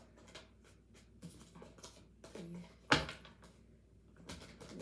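Tarot cards are shuffled in soft, papery bursts of riffling and sliding, with one sharper slap partway through, close and moderately quiet, with no talk over it.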